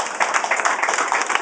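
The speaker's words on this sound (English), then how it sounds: "Well, let me give you an applause." A short burst of audience clapping at a public event where a congresswoman speaks about a $100 million housing authority grant, fairly loud and even throughout.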